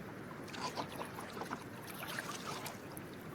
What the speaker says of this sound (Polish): Dwaj rybacy odpływają z resztą sieci na łódce.